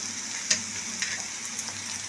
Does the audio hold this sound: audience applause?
no